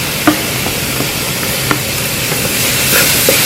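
Chopped shallots, ginger, garlic and green chilli sizzling and frying in a hot pan with a few clinks of stirring, a steady close crackle rising toward the end.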